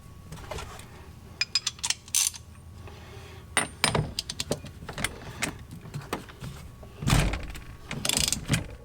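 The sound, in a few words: ratchet turning a 13/16 socket on a steering wheel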